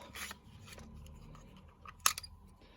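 A craft punch presses jigsaw-shaped pieces out of paper, giving two sharp clicking snaps, one early and a louder one later, against a quiet, close background.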